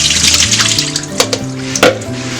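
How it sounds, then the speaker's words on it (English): Soaked cashews are rinsed under running water from a tap, a steady close splashing rush with a few brighter splashes and clinks near the end, with no talk. "then you're just gonna rinse the cashews thoroughly"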